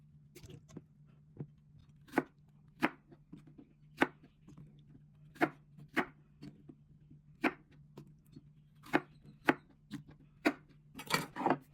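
Sharp, irregular knife chops on a cutting board as vegetables are cut for Thai fish-organ curry, a dozen or so strikes at uneven intervals, quickening toward the end, over a steady low hum.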